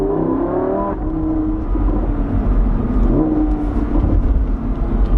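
A Lamborghini Huracan Spyder LP610-4 with a dual-clutch gearbox accelerates hard, its engine note climbing loud and close in one continuous pull with no break.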